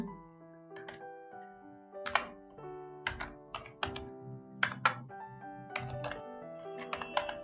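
Irregular clusters of crisp key clicks come from a computer keyboard as code is edited, tapped in short bursts with pauses between them, close and fairly quiet, with no talk.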